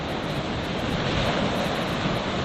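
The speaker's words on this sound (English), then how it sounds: "The surf sound is wonderful." Ocean surf breaking at Cathedral Rocks, a loud, steady roar of waves washing in close by, with wind buffeting the microphone and no voices.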